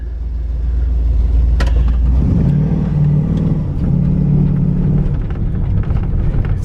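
A Pontiac Grand Prix with an LS engine revs up under throttle, a loud close rumbling engine swelling in pitch and easing off twice.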